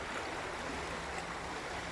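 Water of the Balçova Hacı Ahmet stream, narrowed by a built embankment and road, rushes steadily as a broad, continuous wash, close by and with no voices.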